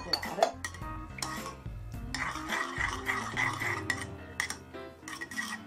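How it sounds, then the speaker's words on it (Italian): A cream and yogurt mixture for homemade Philadelphia-style spreadable cheese is stirred with a utensil against a bowl, making repeated close clinks and scraping knocks in an uneven rhythm over a soft background hum. "E mescolare"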